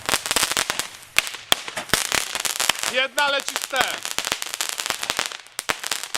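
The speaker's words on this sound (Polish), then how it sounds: "Jedna ma wybuch, druga ma cracking." Rapid sharp cracks and pops from Bulgarian crackling firecrackers burst continuously, close and loud, while people talk excitedly over them.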